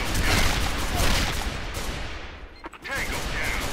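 Heavy rumbling blast and dense battle noise from the game Phantomers, a grenade going off amid continuous gunfire that dips briefly before swelling again, with a voice speaking faintly underneath.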